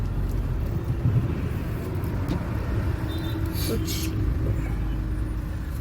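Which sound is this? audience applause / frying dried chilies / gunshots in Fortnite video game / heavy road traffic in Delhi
heavy road traffic in Delhi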